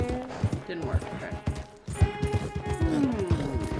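Horse hooves clip-clop in a steady rhythm in Red Dead Redemption, with people talking over the footfalls and occasional in-game sounds.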